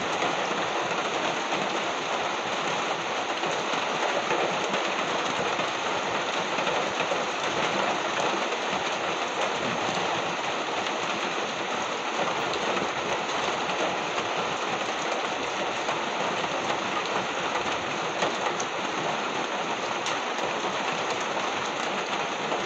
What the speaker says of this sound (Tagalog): Hila na ang ulan.